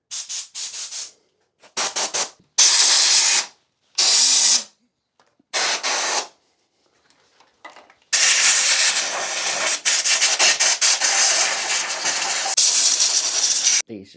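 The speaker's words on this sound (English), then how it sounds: "let me get the compressor over here and we'll just blow that out quickly" Compressed air from an air compressor blasts over motorcycle parts on a sportsbike during a repair, first in short hissing bursts separated by pauses, then in a long, loud, steady blow near the nozzle.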